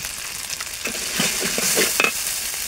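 Spice paste of chili, turmeric and coriander sizzles steadily in hot oil, with a continuous close crackle broken by a few scraping stirs of the spatula; no voices.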